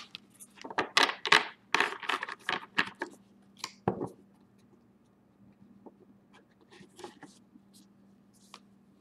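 Tarot cards being shuffled for a reading, a quick run of close papery riffles and slaps over a low steady hum, tapering to faint sparse clicks.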